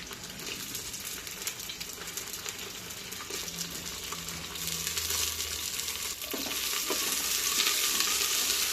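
Thickly cut onion and green chillies fry in hot oil for ulavacharu, making a dense, continuous sizzle that swells slightly louder partway through. It is close and steady, and no one talks.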